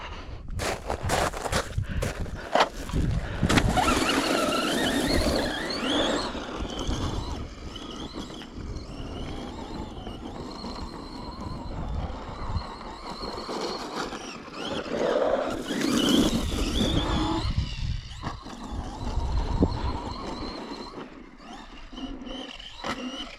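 A Traxxas Rustler 4x4 RC car fitted with a BL2s brushless motor drives around outdoors, its whining motor rising and falling through repeated accelerations amid scrabbling tire and gravel noise, moderately near.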